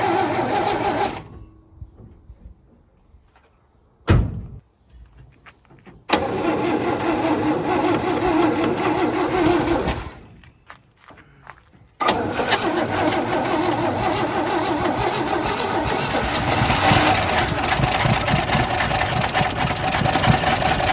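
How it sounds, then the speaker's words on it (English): A 1958 Chevy Delray engine cranks in short attempts separated by pauses, then catches and runs steadily, loud and near, with a rough, churning idle that continues to the end. "Get the beast fired up. Now keep your eyes on it and see if she fires up."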